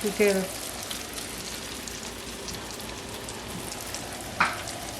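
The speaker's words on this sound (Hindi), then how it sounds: "अब इनको फ्राई कर लेते हैं। और आपने इनको तकरीबन हाई हीट पे ही करना है" Spring rolls deep-fry in oil over high heat, a steady crackling hiss like rain, with a brief voice at the start and a short clatter near the end.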